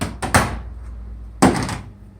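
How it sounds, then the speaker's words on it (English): A screwdriver is tapped against the sheet-metal outer flange of a vacuum cleaner motor casing, giving a few hollow metallic knocks, close and loud, with a lull between the taps. "I take a screwdriver and I put it against the outer flange, and you just tap it"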